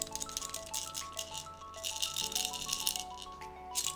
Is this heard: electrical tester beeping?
no